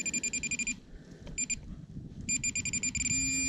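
An X-Terra metal detector sweeping over muddy ground gives bursts of rapid, high electronic beeps that pause and resume, ending in a sustained tone as the signal locks on.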